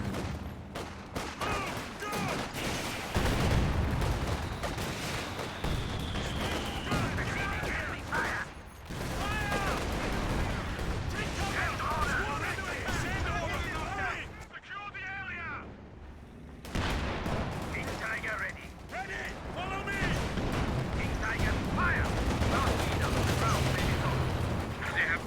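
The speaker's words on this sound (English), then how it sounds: "they're trying to kill my tank with a mortar" Mortar blasts and machine-gun fire pound a tank in the World War II strategy game Company of Heroes 2, a dense, continuous barrage of bursts and rattles with a near-silent gap midway.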